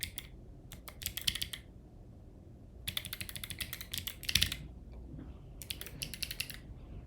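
Quiet bursts of rapid typing on a computer keyboard, clicking in short flurries separated by pauses, close and alone in a still room.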